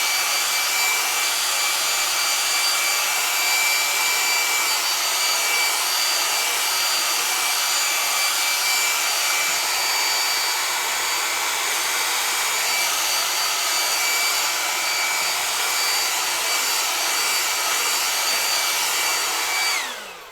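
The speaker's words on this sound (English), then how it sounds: "The heat from the hairdryer going to make the paint dry a bit quicker perhaps." A hair dryer blows steadily and loudly close by, its even broadband whoosh used to dry paint on a woodturning, running unbroken for about twenty seconds before cutting off at the end.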